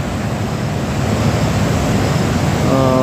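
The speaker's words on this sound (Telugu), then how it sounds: "పోచారం డ్యామ్ ఎలా ప్రవహిస్తుందో చూడొచ్చు" Water pours over Pocharam dam in the Pocharam sanctuary after heavy rain, producing a loud, continuous rushing roar close to the microphone, with wind buffeting mixed in.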